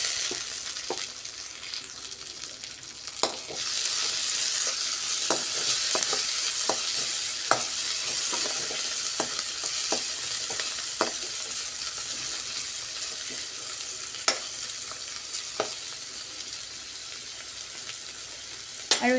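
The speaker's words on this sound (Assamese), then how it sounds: "এতিয়া ইয়াত মই বিলাহী দি দিম।" Onion and tomato frying in oil for chana dal, a close, continuous bright sizzle with periodic stirring scrapes and spoon taps against the pan, no talking.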